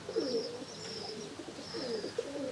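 A racing pigeon coos softly in its loft, several low throaty coo phrases repeating in a steady rhythm, with faint higher chirps from other birds in the background.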